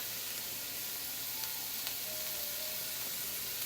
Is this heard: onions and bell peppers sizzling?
yes